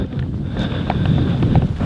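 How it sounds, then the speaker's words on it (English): Wind gusts across a microphone outdoors on a morning turkey hunt in South Dakota, a steady low rumble with brief swells, alone and without talk. "It's a little windy this morning."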